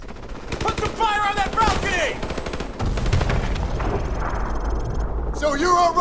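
Gunfire in Call of Duty: Modern Warfare Remastered rattles in dense automatic bursts and single shots with in-game battle noise, loud and continuous, as soldiers shout over the shooting.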